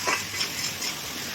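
Masala sizzling and frying in a pan over low heat for a Bengali rui fish curry, a steady close hiss with faint stirring scrapes, no voices.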